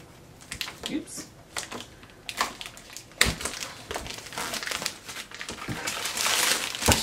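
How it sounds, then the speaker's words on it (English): Shrink wrap is pulled and peeled off a Cricut Maker cutting machine box, giving close, loud crinkling and crackling bursts that build toward a steady rustle at the end. "I'll go ahead and pull the shrink wrap off, which is always so satisfying."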